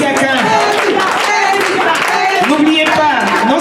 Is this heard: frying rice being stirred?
no